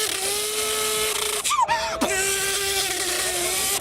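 A BMW M3 Frozen Limited Edition with a 4-litre naturally aspirated engine runs with a steady, loud, tonal drone, then dips briefly and shifts pitch midway before settling back to a constant hum.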